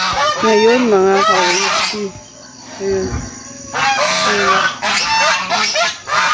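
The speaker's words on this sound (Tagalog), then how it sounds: "Maririnig nyo yung ingay ng ano, ng gansa" Geese on a farm in Claveria, Cagayan de Oro honk loudly and repeatedly in close, nasal bursts, with someone speaking briefly between the calls.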